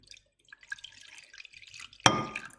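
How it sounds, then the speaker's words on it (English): Water poured into a glass container for an optics demonstration, with faint scattered trickles first and then a sudden louder splash and gurgle as the pour lands near the end. "I can just pour some water in there"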